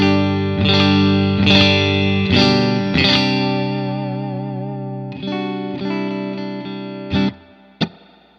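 A clean electric guitar through a 1967 Deluxe Reverb amp, picked harder with a little spring reverb: several strong strummed chords that ring and decay, then lighter strums and two sharp final hits.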